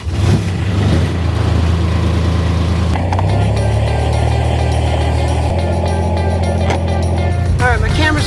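A small off-road vehicle drives along with a loud, steady low engine drone close by and some shifting rattle, while a person talks briefly over it.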